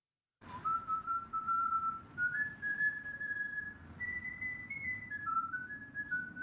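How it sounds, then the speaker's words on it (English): A person whistles through a hood, a sustained, wavering melody with long held notes, close and clear over a low rumbling background. "Here's Booster whistling through the fucking hood."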